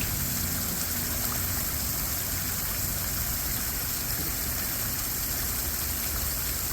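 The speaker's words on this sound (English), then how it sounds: "But this is what a medium-sized water feature sounds like." Medium-sized garden water feature, pump-fed, pours steadily into its pool with a constant close rushing splash and no voices.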